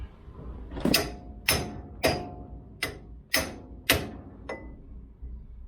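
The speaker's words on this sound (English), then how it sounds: "You just tap the seal in a bit further." Six sharp metallic hammer taps on a seal of a 1973 Range Rover, roughly evenly spaced about half a second apart, ring out close by, with quiet background hum between them.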